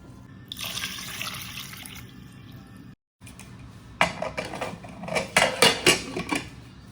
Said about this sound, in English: Add enough water to cover the potatoes.